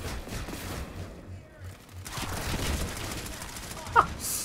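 The XMG-100 machine gun in PlanetSide 2 fires in bursts, part of a rapid mechanical rattle mixed with surrounding battle noise, briefly quieting before picking up again, with one sharp crack near the end.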